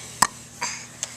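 A young child hiccups three times in quick succession, each one a short, sharp, close catch of breath, the first the loudest and the last soft, in a quiet home.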